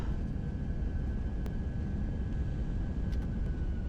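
An airliner braking through its landing rollout at Houston Intercontinental in the Prepar3D v5 flight simulator gives a steady, even broadband roar, with a few faint clicks along the way.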